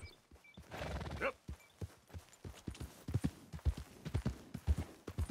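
Horse hooves clip-clop at a walking pace in Red Dead Redemption 2, a close, uneven run of soft thuds, with a brief whinny-like sound near the start.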